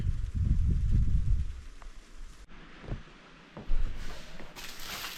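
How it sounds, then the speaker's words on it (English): Heavy rain falls steadily outdoors around a remote off-grid cabin in windy winter weather, a dense continuous wash of noise with a deeper rumbling stretch early on and shifting intensity, no voices. "the rain is coming really heavy"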